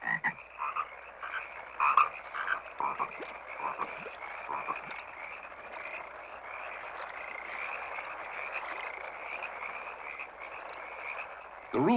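A frog croaks repeatedly in quick, uneven bursts, forming a continuous rasping chorus that is faint and distant with no voices.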